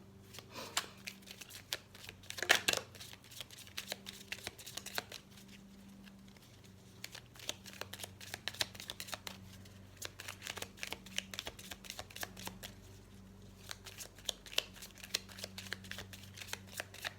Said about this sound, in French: Alors, on va couper le jeu.